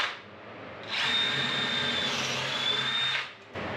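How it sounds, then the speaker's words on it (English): A power drill with a 13mm bit bores into timber for a marine double glazed window frame. It spins up into a loud, steady, high whine for about two seconds, then winds down. "That idea of drilling with the 13mm seems to be working"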